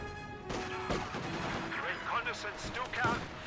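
Strafing-run gunfire in the Company of Heroes 2 strategy game bursts out in a few sharp, distant cracks and rumbling impacts beneath a voice talking over the action.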